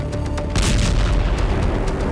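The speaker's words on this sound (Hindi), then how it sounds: "आग की वजह से जोरदार धमाका हुआ" A powerful explosion at a burning chemical warehouse in Balashikha near Moscow comes as a loud, dense rumbling boom that swells and holds as a continuous roar, heard without talk.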